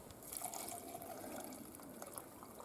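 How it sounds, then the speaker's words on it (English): Water poured into a pot over a portable raised fire bed and cooking grate outdoors, a faint, steady trickling splash that runs continuously and alone for a few seconds. "So I'm gonna add water to this"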